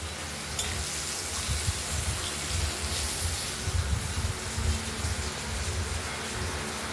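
Potatoes seasoned with turmeric and salt frying in hot oil in a pan, a steady close sizzle and crackle running the whole time with soft bubbling swells, no voices.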